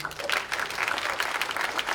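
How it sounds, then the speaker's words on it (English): Audience applause at a summer showcase keynote, a dense, steady wash of many hands clapping, close and sustained for the whole moment, with no voices over it. "Let's give a round of applause to the NextCycle team."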